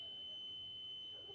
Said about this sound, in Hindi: ये साउंड की आवाज आ रही है, इसका मतलब ये बजर ठीक है